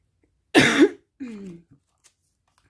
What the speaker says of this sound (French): j'ai une toux là ce matin